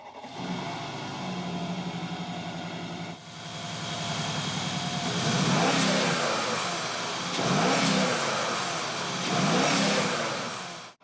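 A 2013 Mercedes-Benz G63 AMG with its 544-horsepower twin-turbo V8 revs up close and loud, rising in several strong surges over a steady idle rumble.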